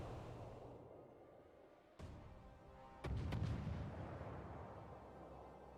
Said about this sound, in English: he's got a Yamato salvo coming in from the north